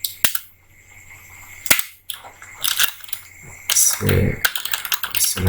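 Bursts of quick clicky keystrokes on a computer keyboard, close and fairly loud, separated by short pauses, with a brief low thump in the middle.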